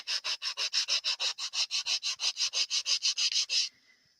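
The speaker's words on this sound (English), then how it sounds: "If I had some rougher sandpaper, this would have gone a whole lot different" Sandpaper sanding by hand in an art session with tea bags, heard as about twenty quick, even back-and-forth rasping strokes, loud and close, that stop abruptly near the end.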